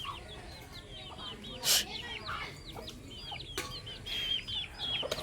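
Chickens cluck while their chicks peep in busy high chirps after a rain, with occasional wing flaps and a sharp burst of noise, the birds close by and overlapping one another.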